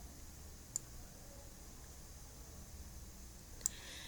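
Two isolated computer mouse clicks about three seconds apart, sharp and faint over a quiet room hiss, with nothing else between them.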